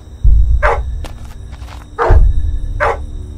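In the horror game Blood Field, a dog gives three loud, close barks about a second apart, set against a low, rumbling ambient bed.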